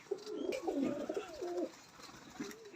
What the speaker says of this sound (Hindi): बड़ी ही माशाल्लाह लाजवाब कबूतरी है।